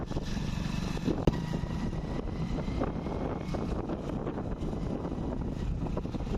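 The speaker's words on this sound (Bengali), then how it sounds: "এই যে মামার বাইক নিয়ে বেরিয়ে পড়েছি" Steady engine drone and wind buffeting from a moving motorbike, continuous and fairly even, with no talking.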